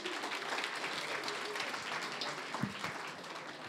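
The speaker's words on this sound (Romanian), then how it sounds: "Aplauze pentru Andrei, vă rog!" An audience claps steadily in sustained applause after a high school project's final pitch, a dense patter of many hands, with a faint voice mixed in.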